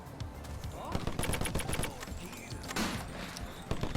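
Sniper and other gunfire in the shooter game Muscles And Bullets come as dense bursts of sharp cracks and rapid shots. Players talk over them throughout.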